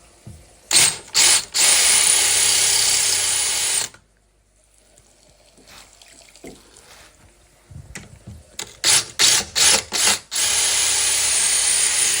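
Bursts of high-pitched drilling into a corroded metal toilet seat bolt, stopping and starting in short runs, with a quiet pause in the middle before the drill resumes for a long stretch.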